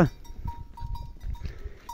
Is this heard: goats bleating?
yes